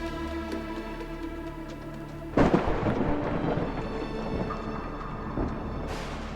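A sudden loud crack of thunder breaks over steady rainfall and rolls on as a long rumbling wash, close and dominant with no voices.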